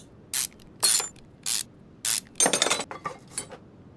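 In the Car Mechanic Simulator 2021 game, a ratchet removes car screws: four short, sharp metallic clicks in a steady rhythm, then a quicker rattling run of clicks that fades out.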